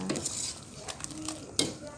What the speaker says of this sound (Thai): ใส่ต้นหอมผักชีลงไปแล้วก็คน เพื่อที่เส้นจะไม่ติดก้นหม้อนะคะ